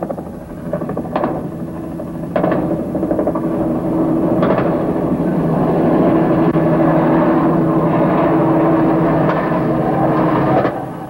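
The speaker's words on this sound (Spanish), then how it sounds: "mirando un helicóptero aquí al lado de nosotros tirando balazos" Loud, steady rotor and engine roar of a helicopter close by, with several sharp gunshots cutting through at intervals.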